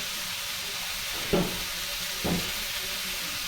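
Chuchuri sizzles in hot oil with a steady, bright hiss, broken by two short clanks of stirring about a second apart.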